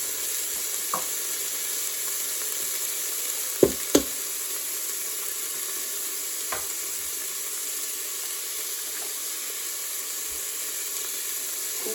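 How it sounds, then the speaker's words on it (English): An egg cracked straight into a pan with softened spare ribs and savoury rice, scrambling in a steady, loud sizzle with a few sharp knocks and scrapes of stirring. "Then I'm going to try and scramble my egg."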